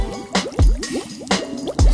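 Water splashes and sloshes in a quick irregular rhythm of wet slaps and squishy drips, loud and close, with nothing else heard.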